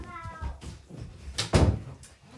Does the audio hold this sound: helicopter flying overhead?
no